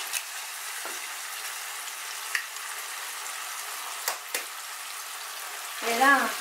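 Eggs frying in a pan with hake in green sauce give a soft, steady sizzle, broken by a few faint clicks and a brief scrape near the end.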